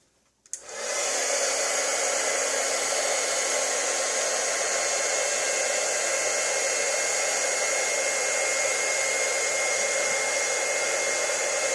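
A heat tool blows steadily and loudly, melting silver embossing powder on a crafting surface, switching on at the start and holding a constant whooshing roar with no voices.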